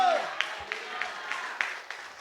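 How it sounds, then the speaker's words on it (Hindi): A church congregation claps together in a steady rhythm, about six sharp, evenly spaced claps, following a brief gliding voice at the start. "जो शुरू से मेरे साथ है वो आज भी कहानी लिख रहा है। जोर से ताली"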